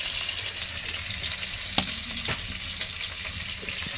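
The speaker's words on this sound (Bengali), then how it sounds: "এই যে ভাঙন মাছ ভাজা হচ্ছে" Bhangan river fish frying in oil in a home kitchen, a loud continuous sizzle and spatter close by, with a sharp clink or pop partway through and no voices.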